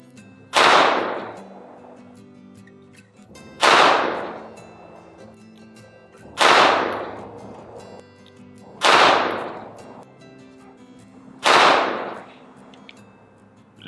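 Five loud 9mm pistol shots from a SAR USA CM9 Gen 2 firing Speer Gold Dot G2 147 grain rounds, spaced a few seconds apart, each a sharp crack with a ringing decay outdoors.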